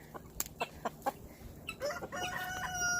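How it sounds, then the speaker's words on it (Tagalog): A homestead rooster crows in a snowy Texas farmyard, a single loud crow rising clearly over scattered clucks and short calls from nearby chickens. "That is a rooster."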